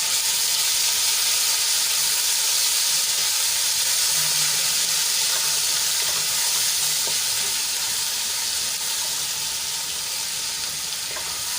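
Ginger, garlic and chili paste sautés in hot oil with a steady, dense sizzle and faint crackle throughout, close and fairly loud, with an occasional stirring scrape and no talk.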